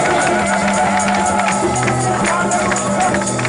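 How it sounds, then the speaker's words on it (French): A church congregation cheering and applauding for the Lord Jesus, a dense, loud wash of crowd noise that fills the whole stretch without a break. "Prenez encore une belle acclamation pour le Seigneur Jésus"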